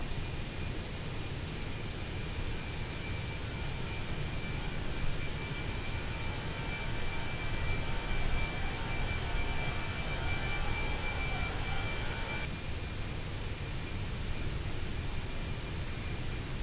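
SWISS A320 cruising in Microsoft Flight Simulator 2024, a steady, even cabin engine roar with a thin high whine running throughout, unchanging and without speech.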